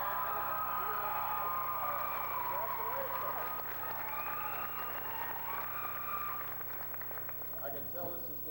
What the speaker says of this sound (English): I was going to ask for a round of applause